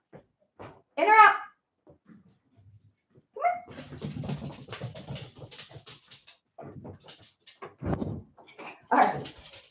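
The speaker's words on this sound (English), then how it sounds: "I got to get Bruno to stop barking" A dog barks several times in separate sharp bursts indoors at a dress-making workspace, with someone talking in between.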